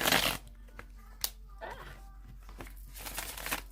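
A deck of tarot cards is shuffled repeatedly by hand, giving crisp riffling bursts and soft papery flicks in several rounds, fairly close, with faint speech in places.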